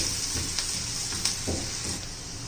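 Onion sautéing in a pan until it colours, a continuous close sizzle with soft stirring scrapes and a few utensil knocks, no voices.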